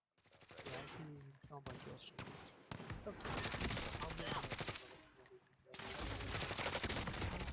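Rapid bursts of GRAU 5.56 assault rifle fire in Call of Duty Warzone, loud and dense with brief gaps between volleys, then sustained automatic shooting continuing to the end.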